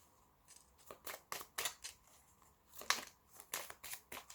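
Oracle cards shuffled by hand: a quiet run of short papery riffles and flicks in irregular bursts, close and soft, with no talk.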